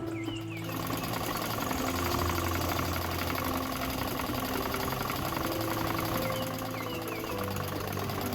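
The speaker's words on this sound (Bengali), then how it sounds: "দেখুন কলির সেলাইগুলোতে একটি করে চাপ সেলাই দিয়ে নিচ্ছি।" A sewing machine stitching a salwar pant, running steadily with a continuous, close mechanical whir and rapid needle chatter for several seconds, with no speech.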